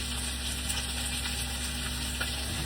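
Onions frying in a kadai in a village kitchen give a loud, continuous hissing sizzle with a low hum beneath, steady throughout and with no speech.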